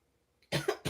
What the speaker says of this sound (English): I still have this residual cough and stuff